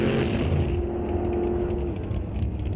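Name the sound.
Chevy drag race car launching off the line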